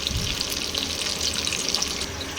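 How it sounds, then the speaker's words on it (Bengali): Chital fish frying in a pan gives a steady, broad sizzle and hiss that holds at an even level from start to finish, with no talking. "এখানে চিতল মাছটাকে আগে ভেজে নিচ্ছি।"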